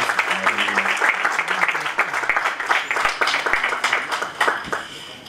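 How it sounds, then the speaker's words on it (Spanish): An audience gives a round of applause to welcome Professor Doctor Rodrigo Ahumada Durán: distinct, scattered claps of moderate loudness ring out with voices murmuring underneath. "les pido por favor que reciban con un fuerte aplauso, al profesor doctor Rodrigo Ahumada Durán"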